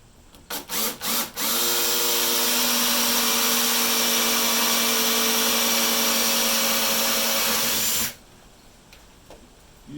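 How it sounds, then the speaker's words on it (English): A power drill with a 1/4 inch bit bores holes during a Jeep XJ solar panel install. After a few short trigger bursts it settles into one loud, steady whine that runs about six seconds and then cuts off abruptly, leaving quiet. "we're trying to drill these out"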